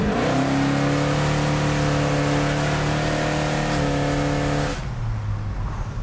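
A restored 1965 Chevrolet Impala with a 396 big block V8 and FiTech fuel injection accelerating hard from a slow roll, loud, rising engine roar that holds before easing off at the end.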